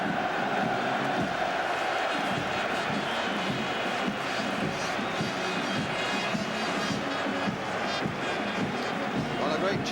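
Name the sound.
West Ham fans cheering as team comes out at Wembley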